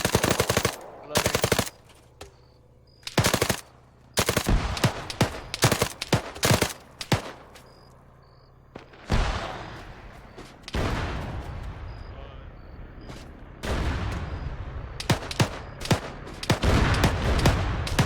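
Gunfire in an Arma military game, with sharp, loud shots that come singly and in rapid bursts. The volleys are separated by short quiet gaps, and a dense stretch of sustained firing and echo comes near the middle.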